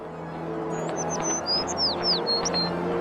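A cartoon bird chirps as it flies away, a string of short, bright, sweeping tweets over a soft steady background hum.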